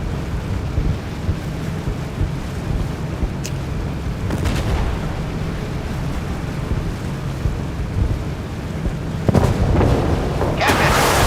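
Naval gunfire and explosions in the warship game Force of Warships: a steady roar of wind and sea, broken by a few sharp blasts, with heavier bursts clustered near the end.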